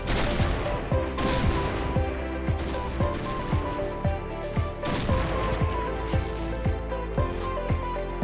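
Rapid gunfire in the battle royale game PUBG: a steady, repeating burst of sharp shots at an even rhythm, loud and close, continuing throughout with no talking.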